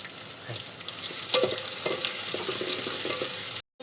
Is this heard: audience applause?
no